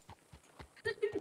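Horse hooves clip-clop in a ranch roleplay video game, a run of soft, evenly spaced near thuds followed by a louder flurry, with excited voices talking over them.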